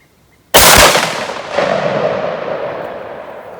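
A single 10 gauge shotgun firing a 1.5 ounce pellet-style sabot slug at an outdoor range, one sharp loud blast followed by a long rolling echo that fades slowly.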